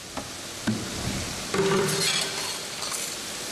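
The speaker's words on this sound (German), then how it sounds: "Man nimmt sich Zeit, selbst zum Anschwitzen von Zwiebeln und Speck." Onions and bacon sweat gently in a pot, a steady close sizzle with a few light clinks of a utensil against the metal, and no voices.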